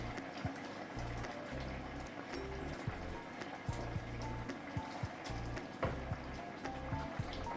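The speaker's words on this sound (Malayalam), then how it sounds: "അപ്പോൾ അതായത് നല്ല തിളച്ച് വരുന്നുണ്ട്" A pot of roasted-coconut chicken curry boils, with irregular bubbling, gurgling pops and liquid burbles over a low background, close and moderately loud, without talk.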